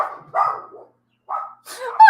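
A small dog barking indoors: a few sharp, close, loud yaps separated by short pauses, the last one higher and more whiny.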